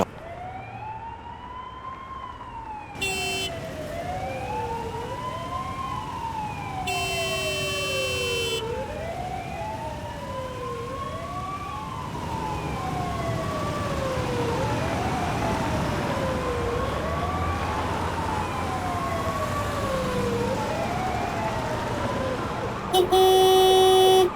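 An ambulance siren wails, sweeping up and down repeatedly, loud and continuous, with traffic noise beneath and short electronic beeps cutting in a few times.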